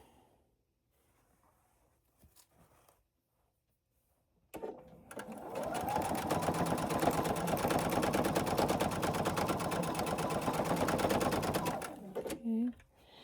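A sewing machine stitches fabric in a steady, rapid mechanical run lasting several seconds after a quiet start, then stops with brief bursts; a voice speaks faintly near the beginning.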